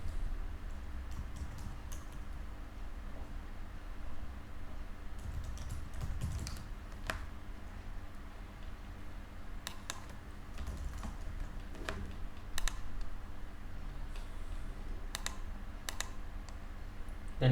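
Username and password are typed on a computer keyboard: irregular bursts of crisp key clicks, some clustered and some isolated, close but quiet against low room hum, with no speech.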